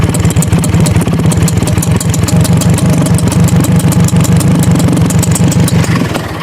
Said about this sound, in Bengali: আমরা এই বাইকটা স্টার্ট করে রেখেছি